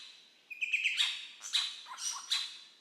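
A bird in an Australian jungle gives a run of bright, high chirps and whistled calls, several separate bursts over a few seconds, fairly close and clear with no other sounds around them.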